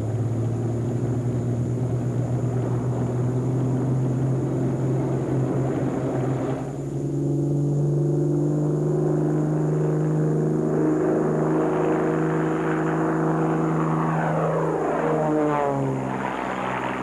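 A three-quarter scale Focke-Wulf 190 replica fighter plane flies past with a steady, loud propeller drone whose pitch shifts as it passes and then climbs, with no voices present.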